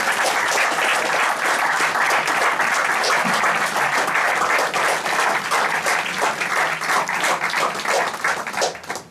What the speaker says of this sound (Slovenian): dajmo še en aplavz